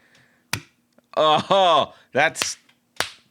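Single sharp hand claps from an injured hand, two or three isolated slaps spaced apart, close and dry, with conversational voices in between.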